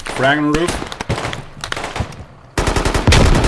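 Gunfire during a firefight in the military video game Squad: rapid close bursts and single shots crack loudly, partly mixed with a player's talking at the start.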